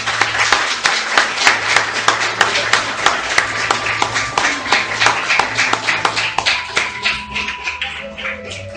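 A church congregation claps together in a steady rhythmic beat, loud and close, while music or singing carries faintly underneath.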